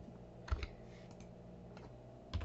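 A few soft computer keyboard keystrokes while entering values in SketchUp, sparse close clicks in two small clusters over faint background hum.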